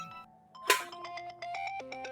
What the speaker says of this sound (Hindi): अम्मी का फोन आ रहा है